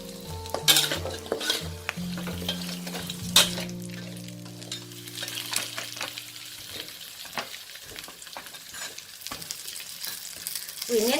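Thai pork leg dipping sauce ingredients cooking in a pan over low heat, bursts of clattering utensil scrapes and stirring over a bright sizzle, close up and without speech.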